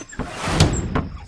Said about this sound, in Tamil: என்னடா இந்நேரத்துல வந்து கதவை தட்டிக்கிட்டு இருக்க?